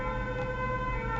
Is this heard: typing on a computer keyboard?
no